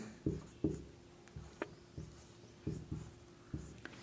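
Chalk or marker strokes on a board during a physics lesson in a classroom, a series of short scratchy taps and scrapes in uneven rhythm, fairly quiet and close, with no talk over them.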